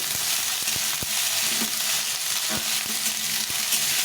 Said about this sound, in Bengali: এরপরে বেগুনটা দেবো বেগুনটা কিছু ভেজে নেব